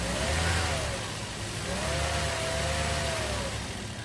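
A Toyota Vios engine idles roughly with strong vibration after repair work, a steady low rumble with faint rising and falling whine, close and continuous without talk.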